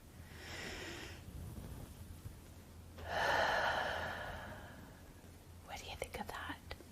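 A child-oriented breathing exercise: two long, breathy inhale-exhale sounds, the second stronger and closer, ending with a few short puffs; soft, intimate and whisper-like, with no clear words.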